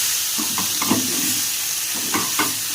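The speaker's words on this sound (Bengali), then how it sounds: "এবার ভালো করে আরেকটু ভেজে নেবো।" Pumpkin sizzles in hot oil while a spatula scrapes and stirs the pan in several quick strokes, close and fairly loud.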